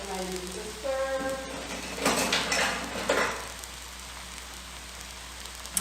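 A spoon scrapes and clinks around a cooking pot of tomatoes and seasoning in a few close stirring strokes, preceded by a brief murmur of voice, then quiet simmering.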